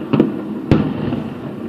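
Fireworks go off over a river in a 4th of July show: two distant booming bursts, the second one sharper, rumble out over a steady background of crowd and ambient noise.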